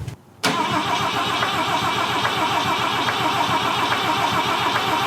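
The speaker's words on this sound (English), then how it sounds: "it's time to start cranking again." A 1969 Volvo 164 engine cranks over after a brief silence, then churns loudly and steadily for several seconds with a rhythmic starter pulse, close by and with no talking.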